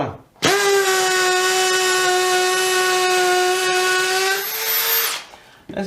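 Holes are drilled into a damp wall with a Bosch GSB 18V 60C Pro cordless drill: one loud, sustained whine close up lasting about five seconds. The pitch drops slightly near the end and the motor then spins down.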